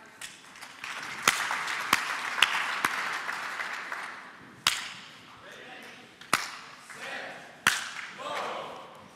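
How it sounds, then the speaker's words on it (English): A crowd at a startup pitch competition claps, a wash of applause with sharp, scattered, louder claps standing out over several seconds, and faint voices in the background. "Claps again."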